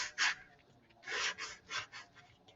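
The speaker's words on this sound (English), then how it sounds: "I can take some fairly coarse sandpaper, and I can just go like this on the commutator" Coarse sandpaper rubbed back and forth on the copper commutator of a starter motor, a few short, close scratchy strokes separated by brief pauses, with no talking.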